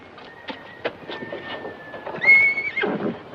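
A horse whinnies loudly near the end, preceded by a few clopping hoof beats and faint background noise.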